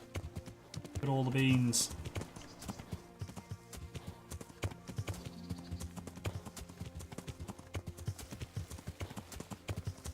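In Kingdom Come: Deliverance, a horse scrambles up a cliff, its hooves clip-clopping in quick, irregular knocks that run steadily on, with someone speaking briefly at the start.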